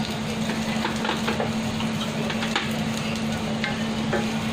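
Steady frying crackle of garlic with scraping stirs in a pan, accompanied by a constant low hum throughout; no voices.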